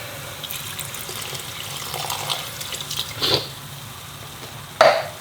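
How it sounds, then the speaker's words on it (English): Water is poured into a pan of sizzling phaal chicken curry, with a quiet frying hiss underneath and two short splashy bursts as it hits the hot pan. "So we're going to top it up with some water now."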